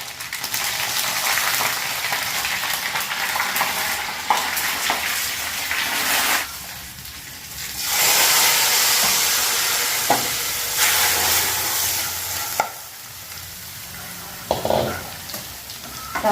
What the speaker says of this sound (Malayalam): സാമ്പാറിലേക്കുള്ള കടുക് പൊട്ടിക്കുക